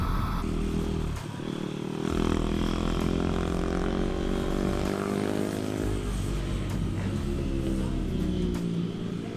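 A Razor MX650 electric dirt bike launching hard on a track under light throttle, its motor whine rising and holding loud and close, steady and continuous with chassis rattle and wind noise throughout.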